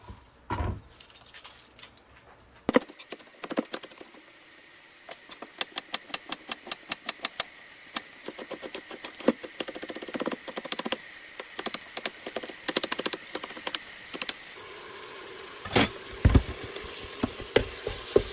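A small onion being diced with a big knife on a cutting board, rapid close chopping taps in quick runs with brief pauses, over a steady sizzle of ground beef frying in a pan.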